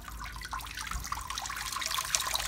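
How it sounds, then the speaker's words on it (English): Water trickles and drips off a Tamiya Super Clod Buster radio-control truck, a close, steady patter of small splashes and dribbles with no talking. "Letting the water drip."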